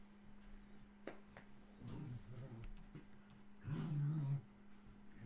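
A big pet dog whimpers and grumbles softly in short bursts near a microphone, with a steady electrical hum beneath and a person talking around it.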